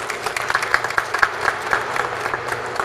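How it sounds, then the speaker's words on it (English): A small audience claps for a college student group, and the applause stays steady and fairly close for a few seconds. No voices break through the clapping. "So please give a round of applause to the College Democrats."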